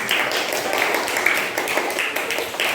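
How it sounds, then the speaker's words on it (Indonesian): Classroom students clap for a group after a lesson on food chains, a dense, steady burst of applause filling the room. "Beri tepuk tangannya buat kelompok 3."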